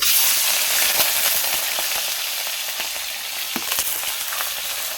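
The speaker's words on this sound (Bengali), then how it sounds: "দেখো বন্ধুরা, তেলটা আমার তেতে গেছে, মাছগুলো তুলে দেবো।" Fish frying in hot oil for a Bengali fish curry, a continuous close sizzle with scattered crackles and small pops, fairly even in loudness throughout.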